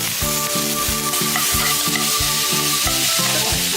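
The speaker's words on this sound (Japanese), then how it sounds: "お肉を炒めて、お肉に少し焦げ目をつけて、この香ばしさを出していく。" Pieces of pork sear in a hot pan with a steady, loud sizzle that stays constant throughout, while a regular pulsing hum runs underneath.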